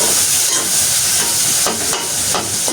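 Fenugreek seeds fry in hot oil for a dried fish curry, giving a steady close sizzle and hiss with a few sharper crackles and stirring scrapes. No talk is heard over it.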